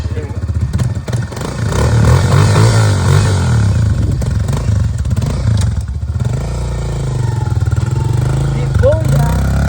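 A dirt bike with no choke runs close and loud, its engine revving up and settling back in repeated blips while people talk over it.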